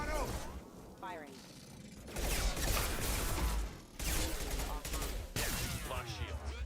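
Mass Effect 2 video game combat with bursts of rapid gunfire and mechanical weapon clatter, loud in stretches broken by short pauses, with voices heard among the shots.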